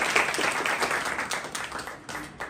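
Congregation clapping at a church convention in Chhindwara, a fairly close crowd of hands applauding in uneven bursts, with brief dips and renewed claps.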